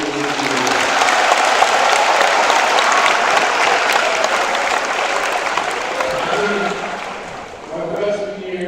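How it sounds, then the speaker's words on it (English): A high school assembly crowd for the Mona Shores Sailors applauds the coach and staff, sustained clapping and cheering with voices rising through it before it fades near the end. "Can we please have a round of applause?"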